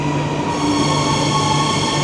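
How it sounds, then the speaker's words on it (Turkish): An airport terminal train pulls into a station with a loud, steady rumble, a sustained tonal whine and faint wheel squeal, close by and without talk. "Yani şimdi tren geldi."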